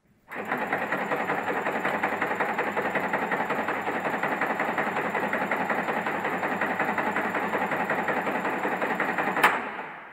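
A medium voltage circuit breaker's spring-charging motor runs during a motor current test, starting abruptly and whirring at a steady, even pitch for several seconds before a short click near the end.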